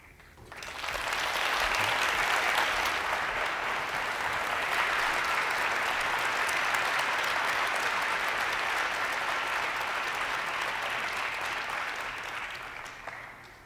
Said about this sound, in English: You've given him another round of applause.